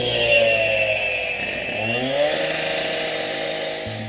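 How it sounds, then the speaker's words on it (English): Concrete saw cutting nearby, heard muffled through hearing protection: a steady whining, buzzing drone with pitch shifts as the blade loads and frees, continuous and subdued in level. "Now someone has started to saw through the concrete nearby"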